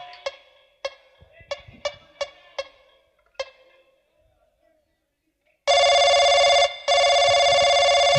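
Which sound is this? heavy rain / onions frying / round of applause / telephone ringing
telephone ringing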